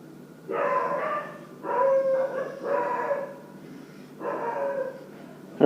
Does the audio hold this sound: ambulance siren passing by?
no